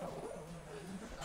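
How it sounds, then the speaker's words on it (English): A dog prone to seizures and on sedating medication gives a low, faint, continuous growl while being held close by. The sound is soft and rumbling, with no clear barks. "Who are you growling at?"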